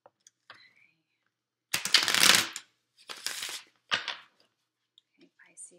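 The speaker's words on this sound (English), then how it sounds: "now I'm going to shuffle and I concentrate on my questions" Tarot cards being shuffled by hand, several crisp riffling bursts with brief pauses between them, close and clear, with faint soft sounds in the gaps.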